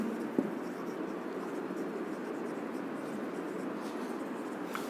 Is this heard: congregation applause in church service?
no